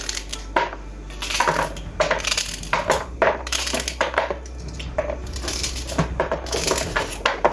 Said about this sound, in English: I'm gonna cut up the celery very small